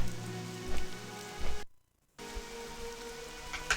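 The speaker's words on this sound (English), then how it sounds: "rain ASMR, all the dripping sounds" Steady patter of rain and dripping water in the World of Warcraft Classic game world, a soft continuous wash with a brief dropout partway through, no voices.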